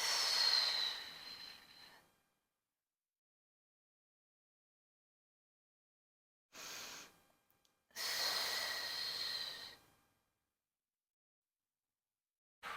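Three bursts of heavy, airy breathing come from someone doing a pilates pelvic curl on a mat, each a few seconds long, separated by long silences.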